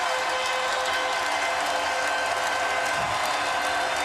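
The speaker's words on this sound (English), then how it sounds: "Standing ovation for Iverson." An arena crowd at a 2001 NBA Finals game between the Lakers and 76ers gives a standing ovation, a dense continuous roar of cheering and clapping from the stands, steady and loud throughout.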